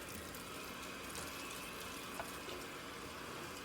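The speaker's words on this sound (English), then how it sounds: "I'm gonna cut the water back on." Warm or cold water runs steadily from a kitchen tap while a 17-pound Thanksgiving turkey is rinsed and cleaned in the sink, a continuous hiss with a faint splash near the middle and no talking.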